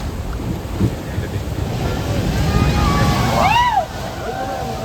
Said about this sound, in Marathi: आज लाटा जास्त मोठे आहेत ना त्यामुळं